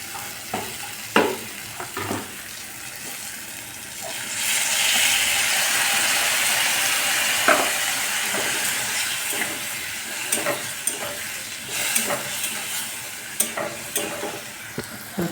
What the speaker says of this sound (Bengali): একটু ভালো করে ভাজতে হবে, ভালো করে একটু নাড়িয়ে দেবো।